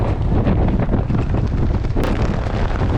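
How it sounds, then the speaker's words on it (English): Strong wind buffets the microphone in loud, continuous rumbling gusts with no voices. "as you can tell, pretty gosh darn windy"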